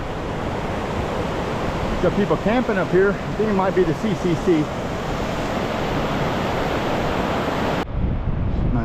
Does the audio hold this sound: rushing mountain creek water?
yes